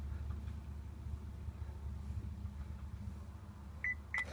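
Two short electronic beeps from a 2017 Chevrolet Colorado during key remote programming, heard late in the clip and close by, over a steady low hum of vehicle or cabin noise.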